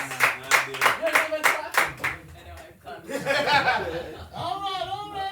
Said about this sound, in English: I only saw women clapping